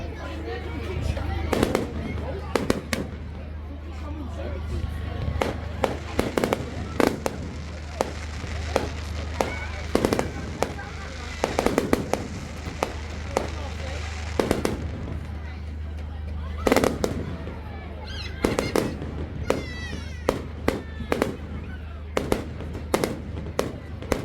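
Fireworks burst repeatedly at a late-night bonfire, sharp bangs and crackles popping irregularly throughout over a steady low rumble, with people talking and calling out nearby.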